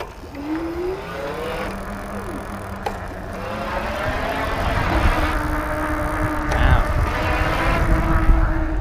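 A Rad Power Bikes RadRover electric fat bike motor under pedal assist at its highest level, whining and rising in pitch as it accelerates, with tyre and wind rumble building underneath toward the end.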